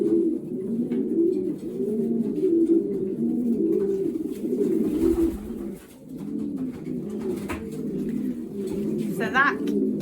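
Racing pigeons coo steadily while being basketed for races, a dense overlapping chorus of low murmuring calls close by, with people talking over them.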